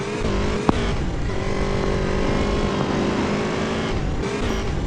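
A motorbike ridden in the video game GTA San Andreas gives a steady, loud engine drone that holds at a constant pitch throughout, with one brief sharp tick early on.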